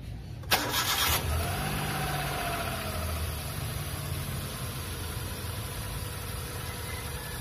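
A car engine cranks briefly and catches, then settles into a steady idle that carries on to the end, close and fairly loud, with no talk.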